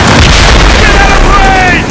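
Ship cannons firing in Assassin's Creed Rogue during a naval battle: a loud, continuous roar of booming blasts that fills the whole moment, with shouting voices in the mix.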